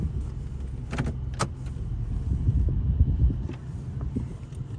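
A parked car idles in a touchless car wash bay, giving a steady low engine rumble with a few light clicks and rattles near the start.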